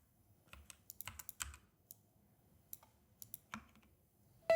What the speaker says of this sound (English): Then I'm going to add a keyboard typing effect to here.